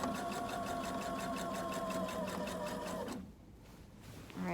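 A sewing machine with an A presser foot runs continuously while stitching the finished edge of a waistband, then stops briefly before restarting. The hum is close and steady, with no speech over it.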